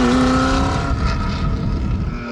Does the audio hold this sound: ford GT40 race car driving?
yes